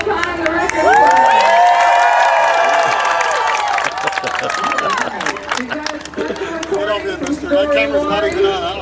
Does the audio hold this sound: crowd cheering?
yes